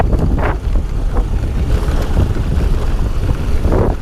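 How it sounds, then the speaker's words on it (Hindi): A scooter ridden slowly during a beginner riding lesson gives a steady low engine rumble, heavily buffeted by wind on the microphone, close and loud with no talking. "बस धीरे धीरे से चलाना बाइक को"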